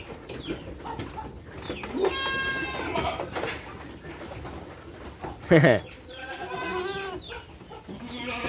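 Several goats bleat loudly in a pen on a goat farm, cries rising and falling at intervals, with faint murmuring and background barnyard noise between them.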